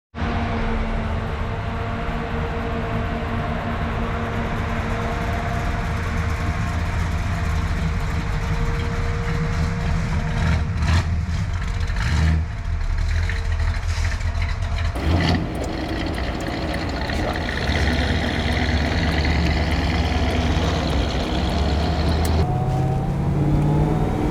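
An HJ Holden Monaro GTS cruising on the road, its engine a steady, loud low rumble with continuous road and wind noise throughout and a brief shift in tone partway through.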